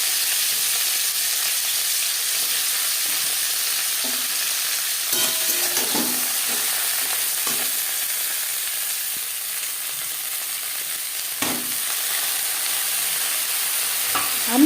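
Broccoli frying in hot oil in a wok with stirring, a steady sizzle running throughout with a few sharper scraping knocks, close and moderately loud, with no talking.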